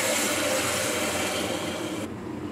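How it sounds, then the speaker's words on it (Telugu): Water pours steadily into a pot of soaked rice for bagara rice, a loud continuous rushing splash that cuts off abruptly near the end. "వాటర్ యాడ్ చేసుకున్నాం."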